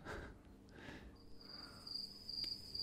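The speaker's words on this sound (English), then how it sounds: "Put in some crickets." Crickets chirping as an added sound effect: a steady, high, continuous trill that holds on alone, with no voices over it.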